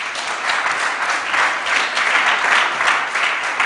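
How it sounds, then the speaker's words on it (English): Steady, dense applause from a conference audience at a tech summit, a sustained wash of many hands clapping at even loudness with no voices over it. "he deserves a big round of applause"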